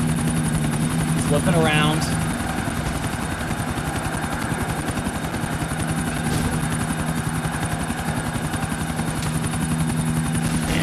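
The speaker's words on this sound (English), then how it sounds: "We see some choppers off in the distance here." Distant helicopters in a video game race on an island, a steady rotor drone beneath a voice as the race runs on.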